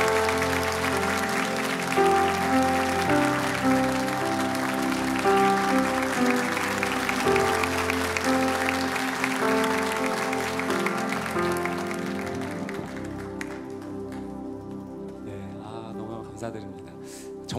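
Sustained applause from a church congregation thanking a pastor during a flower presentation, a dense even clapping that holds steady and then gradually thins and fades toward the end.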